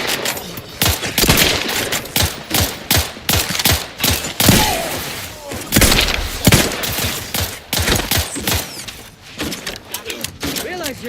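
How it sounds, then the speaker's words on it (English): Rapid bursts of automatic gunfire and scattered single shots rattle loud and close through a firefight in The Outer Worlds 2, with a voice speaking between the volleys. "I don't even know where the fuck it's shooting from."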